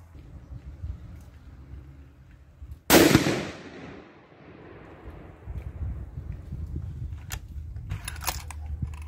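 A single loud, close shot rings out from a Bergara HMR 14 rifle firing a 6.5 PRC handload outdoors, its sharp crack trailing into a fading echo before low ambient rumble returns.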